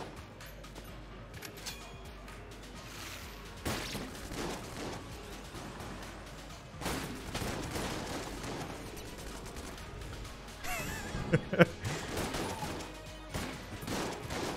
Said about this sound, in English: I guess it's just the snowball cannon.